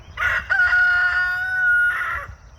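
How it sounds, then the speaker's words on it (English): A neighboring rooster crows once, a long loud cock-a-doodle-doo lasting about two seconds, heard from outside a high tunnel greenhouse with low background rumble. "Do you hear the neighbor's rooster crowing back?"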